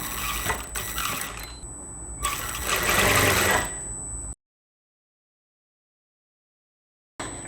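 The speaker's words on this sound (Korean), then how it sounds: "시침핀을 이렇게 꽂아 놓은 거를 이제 박아주는데" A sewing machine stitches pinned dress fabric for an A-line spring dress with a 1 cm seam allowance, whirring loudly in two close bursts before cutting to silence, then briefly starting again.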